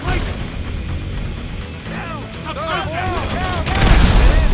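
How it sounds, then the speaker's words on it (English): A grenade blast in GTA 5, a crashing boom with debris and clatter that swells toward the end, set against game noise and excited voices talking over it. "Grenade out."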